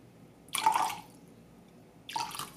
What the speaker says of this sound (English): To this, I'll add two tablespoons of apple cider vinegar